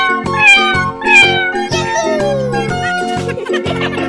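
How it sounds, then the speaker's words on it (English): A cat meows repeatedly in a kids' animal-guessing challenge, a run of about six clear, loud, tonal meows in quick succession, close up and with no talk over them. "Cat."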